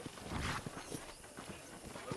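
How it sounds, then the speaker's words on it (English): Horse hooves clip-clop in the Red Dead Redemption western video game: a faint, steady rhythm of soft thuds under a wash of background ambience. "I picked out a fine horse for you."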